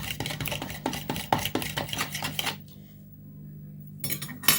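A whisk or fork beats egg and milk into an egg wash in a bowl, giving quick rhythmic clinks and taps against the sides. A short quiet pause follows, then the clinking starts again.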